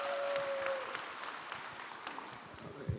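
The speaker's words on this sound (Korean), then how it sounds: "나오실 때 박수로 환영하시겠습니다" Steady applause from an audience, a dense patter of many hands clapping that carries on evenly for a few seconds.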